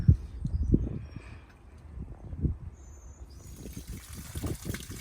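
Cleaning chemicals flushed through the plate heat exchanger of a Viessmann boiler with no hot water, heard as close, irregular trickling and gurgling of liquid with small splashy bursts, fairly quiet.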